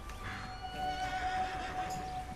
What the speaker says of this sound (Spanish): ahí está mi caballo